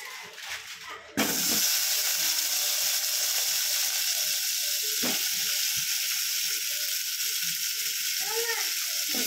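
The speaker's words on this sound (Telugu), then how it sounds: "ఇందులో అయితే కొంచెం ఆయిల్ వేసుకొని నెక్స్ట్ అయితే టమాటోస్ వేసుకుందాం" Tomatoes hit hot oil in a pan for a simple tomato chutney. A sudden bright sizzle starts, then stays steady and hissing, with a few clicks and knocks of a utensil and no speech.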